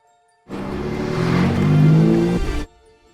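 Porsche 992 GT3, a rebuilt crash-damaged car, driven in Florida, engine rising in a short burst of revving for about two seconds before cutting off abruptly, heard alone.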